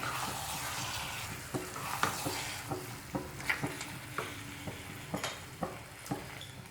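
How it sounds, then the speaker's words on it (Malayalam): Medium-sized pieces of country chicken being stirred in a pan for curry, quiet frying hiss broken by a run of regular spatula knocks and scrapes, close and without talk. "ഇനി നമുക്ക് നന്നായിട്ടൊന്ന് മിക്സ് ചെയ്ത് കൊടുക്കാം"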